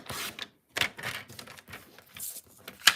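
Card stock being cut for a concertina birthday card, a series of short crisp snips and slicing strokes in uneven rhythm with brief pauses, close and clear.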